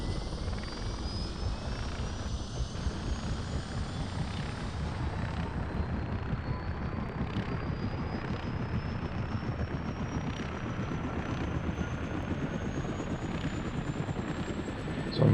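Helicopter engine in the video game Operation Flashpoint, a steady, loud rotor and turbine drone running throughout with no talk, its whine slowly rising in pitch.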